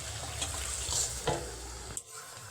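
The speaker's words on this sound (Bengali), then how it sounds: "এইবার ঢাকনা খুলে আরও কয়েক মিনিট চিকেনটাকে কষে নেব।" Chicken stir-fried in a pan with whole spices, a steady soft sizzle broken by scraping stirs of a spoon, close and fairly quiet.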